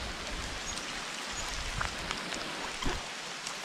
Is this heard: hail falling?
yes